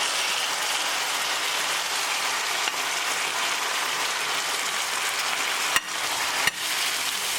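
Tadka sizzles steadily in hot oil for baingan bharta, a dense, even hiss close by with a couple of sharp clicks near the end; no talking.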